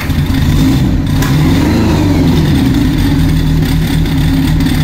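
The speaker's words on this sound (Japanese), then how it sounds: "それではですね、エンジン始動といきたいと思います。" A Kawasaki Zephyr 750 Final Edition with a black four-into-one collector exhaust and FCR carburetors runs loud and close, its engine revving in a steady, throaty drone that holds for the whole stretch with no talk.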